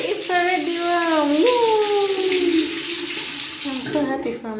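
Hot tap water runs steadily into a guest bathroom sink in an apartment, a continuous close rushing with a faint whistling tone in the pipes, heard alone.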